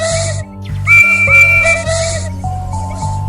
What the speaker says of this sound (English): Maybe we should blow our whistles.